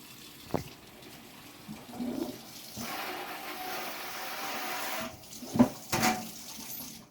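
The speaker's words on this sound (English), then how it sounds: "So, we're going to go ahead and rinse it off." A kitchen utensil is rinsed under a running tap, with a faint, steady rush of water, a few brief splashes and light knocks near the end.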